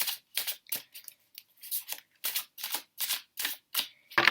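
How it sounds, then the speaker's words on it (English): A deck of tarot cards is shuffled by hand, a quick series of about a dozen crisp riffling bursts separated by short pauses, close and clear with no talk. "So I'm just going to shuffle a little bit more."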